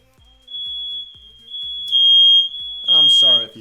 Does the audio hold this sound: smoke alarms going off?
yes